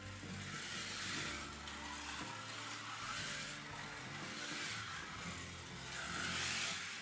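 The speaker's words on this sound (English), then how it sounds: "it sounds quieter, it's not chattering so much" A slot car fitted with Staffs Slots wheels and Slot.It tyres runs around a track, giving a steady whirring motor hum that rises and falls slightly as it laps, fairly quiet with little chatter.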